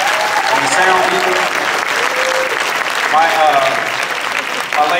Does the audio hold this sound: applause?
yes